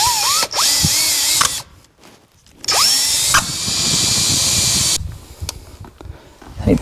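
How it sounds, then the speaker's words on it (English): A power drill bores down through wood during new-construction alarm wiring, with loud whining bursts of motor speed that ramp up and drop, separated by brief pauses and a grinding bite into the timber. "I'm going to drill all the way down and through the wood that's below this now."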